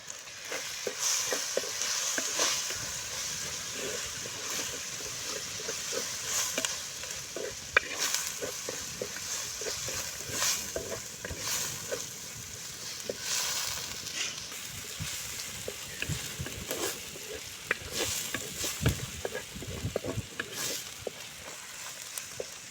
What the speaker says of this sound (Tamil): நம்ம எடுத்து வச்சிருந்த தங்க நிற ஆவாரம்பூவை வந்து நம்ம இதில் போட்டு லைட்டாக போட்டு சூடு பண்ணால் போதும்